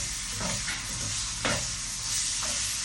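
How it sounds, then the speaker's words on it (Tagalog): Chicken breast sautés in a pan for chop suey, sizzling steadily up close while a utensil stirs and scrapes several times, with no talking. "Igisa lang natin yung sahog natin yung chicken."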